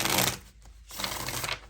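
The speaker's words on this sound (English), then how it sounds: "One more shuffle here." A deck of tarot cards being shuffled up close, with two bursts of rapid riffling and flicking separated by a short pause, crisp and clear with no talking.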